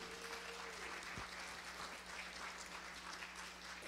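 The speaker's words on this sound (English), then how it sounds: "Let's give a round of applause to the volunteers." A Sunday service congregation applauds its volunteers with steady, dense clapping heard faintly and at a distance, under a low constant hum.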